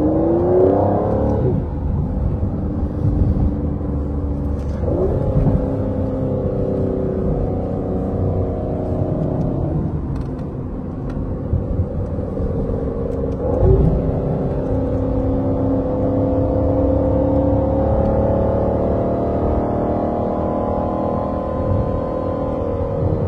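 A loud, close Aston Martin V12 Vantage engine revs hard while driving near Geneva, the pitch climbing and dropping through several gear pulls in a continuous roar, with no talking.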